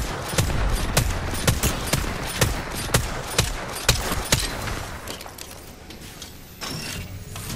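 Bursts of automatic gunfire in the video game Apex Legends, a rapid string of sharp shots repeating over several seconds before thinning out, with no talk over it.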